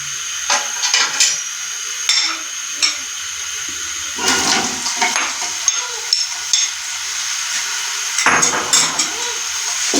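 Onions tipped into lightly warmed oil in a bowl cooker for beef korma, giving scattered clattering and splashing bursts with a steady high hiss, fairly close and loud, no voices.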